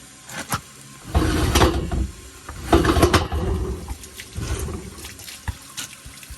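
A flipped wine barrel pours out leftover water after steam cleaning at a vineyard, a loud splashing gush in several surges lasting a few seconds.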